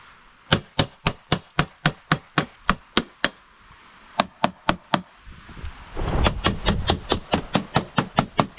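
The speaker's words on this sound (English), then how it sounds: "push down on the capsule and tap the clamp" A clamp on a Pentair Clean and Clear pool filter is tapped repeatedly to seat it, producing a sharp, evenly paced series of close metallic knocks with a brief pause midway.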